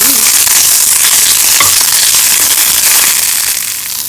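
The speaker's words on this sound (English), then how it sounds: "this is to saute our Amarnath leaves" Amaranth leaves sautéing in a hot pan, a loud, continuous dense sizzle and crackle of frying greens with steady intensity throughout, no voices.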